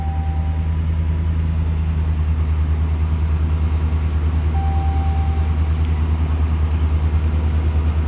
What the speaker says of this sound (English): I feel like even my truck's running loud today too.